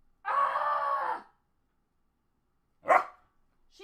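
A dog gives a long, drawn-out bark or howl, then a short sharp bark after a pause, with a third just starting at the end, all close and clear against silence.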